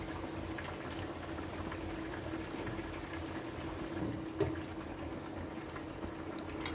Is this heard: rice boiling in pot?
yes